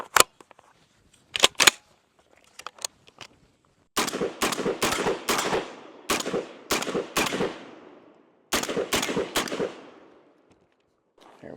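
A Genesis Gen-12 10.5-inch short-barreled shotgun fires several sharp, loud reports, first a few spaced shots, then two rapid strings of blasts, each with a short echoing tail, with quiet gaps in between.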